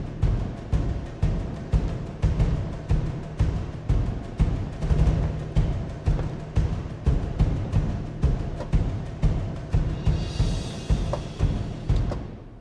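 Orchestral percussion rhythm from the Final Fantasy VII battle theme, with steady, driving hits accented in a repeating pattern, deep drums under sharper strikes and a brief shimmering cymbal-like swell near the end.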